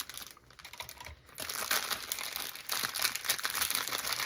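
Small scissors snipping and crinkling open a plastic package, close and fairly quiet, with irregular rustling and crisp cutting bursts that grow busier after the first second.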